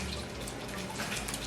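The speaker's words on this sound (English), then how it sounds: "you have to add a splash of lemon juice" Lemon juice splashes into a glass of Rooh Afza drink with a faint, steady liquid trickle and drip, quiet and continuous and without any talking.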